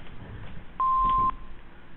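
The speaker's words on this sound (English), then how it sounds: "leave your name and phone number after the beep" An answering machine sounds one steady electronic beep lasting about half a second, loud and clean over faint line hiss, with no voices during the tone.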